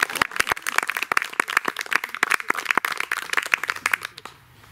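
A church congregation at an outdoor NABU service claps for two people, the crowded patter of many hands close and lively before it stops abruptly near the end.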